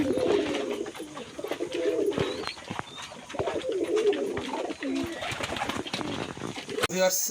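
Pigeons coo in soft, repeated low murmurs throughout, with a steady background of rustling and faint chirps, no one speaking.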